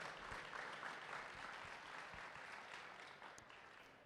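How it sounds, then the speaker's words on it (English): A large audience at a national championship tournament with 500 players from 64 schools applauds in a dense, sustained wash of clapping that fades slightly toward the end. "Let's get a big round of applause for making it out here."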